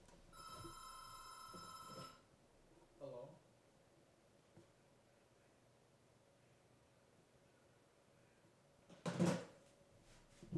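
A telephone rings with a rapid electronic bell trill for about two seconds, moderately loud, then stops; faint clicks and a brief later burst of noise follow in a quiet room.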